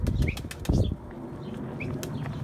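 Rapid bursts of wing flaps from a pigeon taking flight, loud and close at first, then fading into a steadier rustle.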